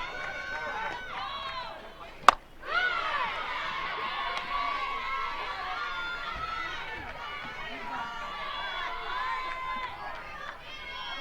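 Spectators at a college softball game between Oklahoma State and Iowa State keep up a steady murmur of chatter and cheering, with one sharp crack partway through, all underneath ongoing speech.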